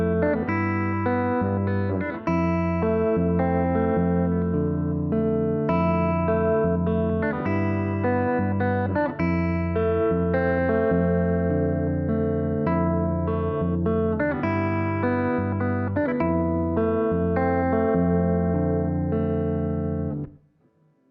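Clean electric guitar plays the repeating first four bars of the outro to a song, a steady sustained chordal figure looping alone for about twenty seconds before trailing off and stopping abruptly.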